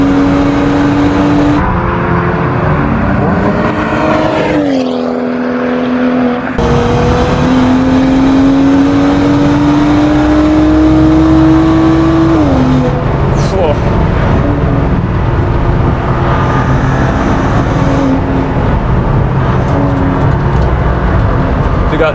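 A 400bhp BMW M135i race car with a ZF 8-speed gearbox howls on track, its loud onboard engine note rising through gears with sharp shift drops, while a driver talks over it.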